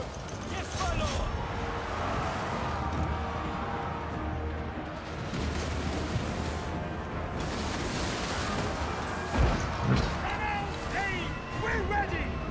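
Empire gunners in Total War Warhammer firing volleys of black-powder guns on a battlefield, a rumbling mix of distant booms and crackling shots under shouted commands and a steady battle din.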